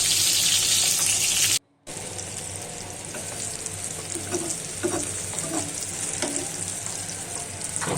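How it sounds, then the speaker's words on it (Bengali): Eggplant slices fry in a pan with a loud, constant sizzle that drops out briefly and then returns, steady and close. No voices. "তো বেগুনটা যখন ভাজি করব তখন আমি এটি মাঝারি হাতে রাখবো"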